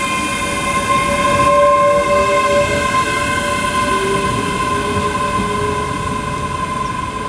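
A ScotRail class 385 electric train departs Dunblane station with a steady, loud electric whine and bright tonal hum, the tone bending in pitch as it pulls away, with faint rail clatter underneath.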